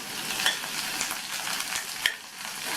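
Chopped onion and garlic sauté in a pan with a steady close sizzle, broken by a few soft stirring scrapes and taps.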